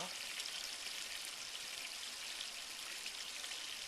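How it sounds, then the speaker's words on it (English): Soft, steady trickle of water spilling from a small spa scupper into a pool, a constant gentle splashing hiss with no voices. "The sound of water with a little scupper coming out of the spa."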